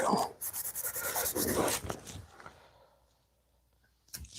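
A new Scotch-Brite scouring pad scrubs along a knife blade in a run of rough, rasping strokes for about two seconds, then fades to near silence before a brief scrape at the end.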